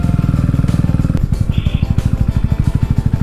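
A motorcycle ridden by a beginner rider on a couples' tour, its engine pulsing loud and close, with the note dropping and restarting as the rider shifts up a gear partway through.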